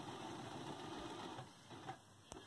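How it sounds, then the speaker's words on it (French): A sewing machine runs a steady straight stitch on fabric, its even whirring hum continuing for a couple of seconds before easing off, with a small click near the end. "Je les attache maintenant deux à deux avec un point droit."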